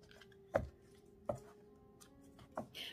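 Three separate sharp taps of a tarot deck being cut and knocked on a table, spaced about a second apart, close and fairly quiet, with no talking.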